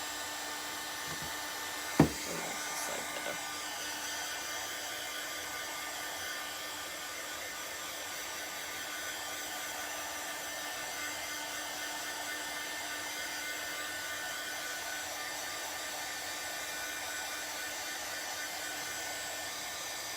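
A hair dryer blows steadily up close over painted regular wood, a constant whirring hum running the whole time after a single sharp knock near the start.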